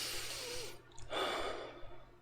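Calm breathing during meditation, a long steady exhale and then a fuller breath in, close and clear with no talk.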